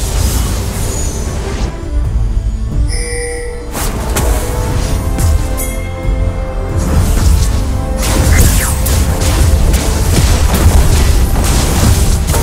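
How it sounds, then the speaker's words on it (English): Booming blasts and crashing bursts as an enemy turret is destroyed in League of Legends: Wild Rift, loud layered explosions over continuous game sound, rumbling throughout. "Enemy turret destroyed!"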